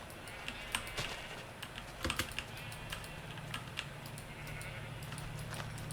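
Sheep bleats from the Minecraft video game, a few brief calls rising over steady keyboard typing and mouse clicks, with a low hum running underneath.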